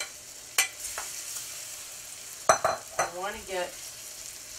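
Plantains fry in melted butter in a large skillet, giving a steady soft sizzle with a couple of sharp utensil clicks, and a voice then speaks briefly over the frying.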